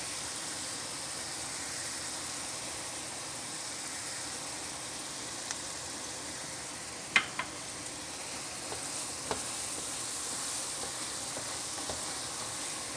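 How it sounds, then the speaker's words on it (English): Ground meat sizzling steadily in a pan for a shepherd's pie, a constant hiss with a few faint clinks and scrapes partway through. "while the ground meat is cooking"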